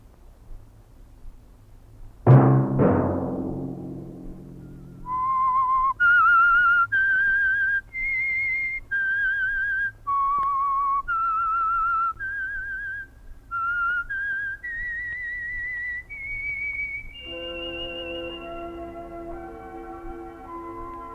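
A sharp strike opens, then a clear, bright whistled melody plays alone, steady notes rising and stepping across a short tune, ending on a held tone; a 1951 radio drama theme.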